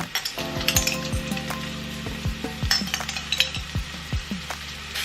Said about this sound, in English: And then we're going to cook this on a medium heat for 5 minutes until the vegetables have softened a little bit.